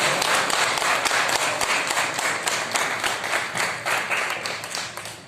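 Audience members at a foundation event for a Ram Mandir silver brick donation clap in welcome, a moderately loud, continuous patter of many hands with individual claps audible, fading slightly toward the end.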